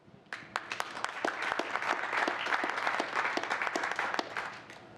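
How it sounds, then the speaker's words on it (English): Audience applause at a redevelopment commission meeting, many hands clapping in a dense, steady patter for about five seconds at moderate volume, with no voices over it. "normally, we give a round of applause for you taking on this new role as chair"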